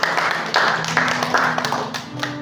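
Clapping from a church congregation at a Sunday worship service, a steady patter of hands across the room with a pulsing, uneven rhythm and some background hum.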